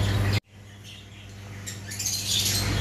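Diamond dove wings flapping in a cage as the bird takes off, a rushing flutter that starts after a sudden cut and builds steadily louder up close, with no voices.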